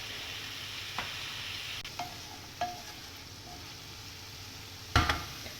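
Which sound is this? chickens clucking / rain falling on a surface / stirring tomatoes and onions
stirring tomatoes and onions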